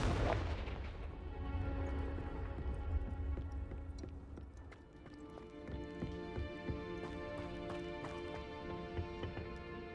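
Confringo fire blast spell in Hogwarts Legacy, a loud booming explosion at the start that decays into rumbling, crackling combat noise with scattered sharp impacts and a tonal music bed, no talk.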